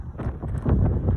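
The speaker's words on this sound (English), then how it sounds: "show me what you got, wind" A high wind storm in Rapid City, South Dakota, blowing from the south at about 23 miles per hour, roars and buffets loudly against the microphone in a brief, steady rumbling gust with no talking.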